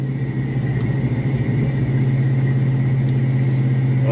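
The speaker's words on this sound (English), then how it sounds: "as you're accelerating, like through the gears, it's super loud" A Procharged truck engine drones loudly and steadily from inside the cab while under way in gear, a deep rumbling tone with no voices.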